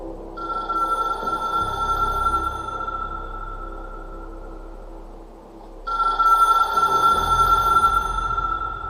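A hotline telephone in the video game Control rings with a bright electronic bell tone in two long bursts separated by a short gap, loud over a low ambient hum.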